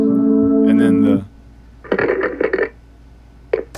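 A telephone tone sound effect ends a song: a sustained steady tone cuts off sharply, followed by a few short electronic bursts and a final brief blip, all fairly loud and close.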